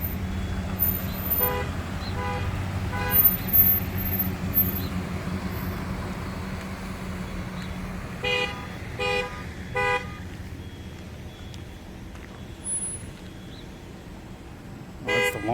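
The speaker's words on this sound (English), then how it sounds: "Alarms going off on the truck." Alarms sound from an overturned truck in tornado wreckage, repeated honking bursts at a moderate distance over low outdoor rumble, some in quick pulses and others spaced apart.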